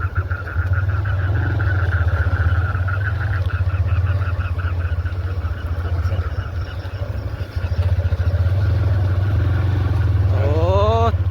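A motorcycle ridden along a dark, deserted road at night gives a loud, steady engine drone throughout, with a brief rising tonal whine near the end.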